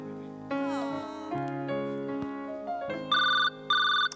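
A telephone ringtone chimes in two short, loud electronic bursts near the end, rising over a sustained musical tone bed in a Marathi comedy sketch scene.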